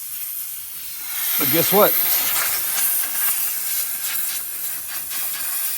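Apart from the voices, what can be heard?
compressed air leaking from cracked air hose reel line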